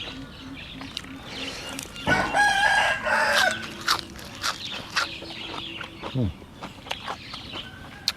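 A rooster crows loudly near the middle, with quieter clucking hens and other birds around it, and a faint voice in the background.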